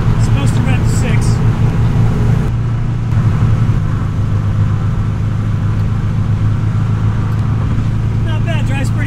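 A 1963 Alfa Romeo Giulia cruising at highway speed around 4,000 RPM, its engine giving a steady, close, continuous drone and rumble that persists throughout.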